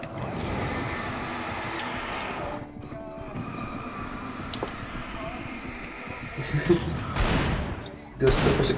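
Gunshots fired at an explosive barrel in the horror game Alan Wake, with sharp bursts of fire and a loud blast near the end under steady game noise and talk.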